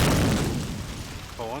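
A grenade explosion in the multiplayer game Medal of Honor Allied Assault, a deep boom that opens the moment and fades out while a commentator talks over it.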